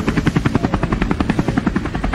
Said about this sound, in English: take the helicopter out for a spin